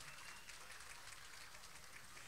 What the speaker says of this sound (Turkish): güzel bir alkış gelsin gelini damada